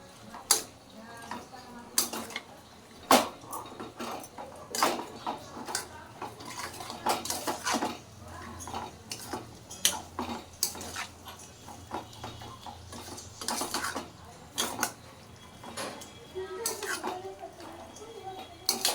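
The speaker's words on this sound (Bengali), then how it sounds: "এবার আমি এটাকে ভালো করে মাখিয়ে নেব" Prawn and poppy-seed paste being mixed by hand in a metal bowl, with repeated clinks and scrapes against the bowl in an irregular rhythm, close and fairly loud.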